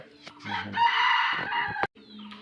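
A domestic rooster crows once, loud and close, a full drawn-out call with a faint cluck before it.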